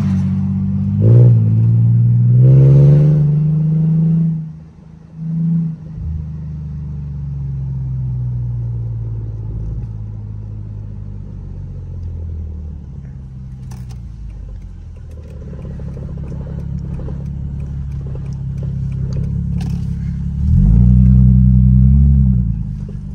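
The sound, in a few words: Mercedes W210 engine revving at half throttle in first gear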